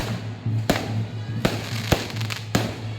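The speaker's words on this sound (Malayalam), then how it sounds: "കുറച്ച് വെടിക്കെട്ട് കാണാം" Festival fireworks burst in Annanad: five sharp cracking bangs at irregular intervals, ringing over a steady low crowd hum, fairly close and loud.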